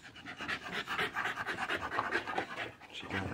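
A short-snouted bully-breed dog pants close by in quick, raspy, rhythmic breaths, heard alone and fairly soft.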